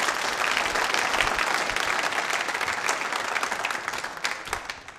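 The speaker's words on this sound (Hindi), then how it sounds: "इस जानकारी के लिए भी बजा सकते हैं आप तालियां" An audience at a nursing college quiz show breaks into loud, dense clapping that holds steady for several seconds before gradually thinning out.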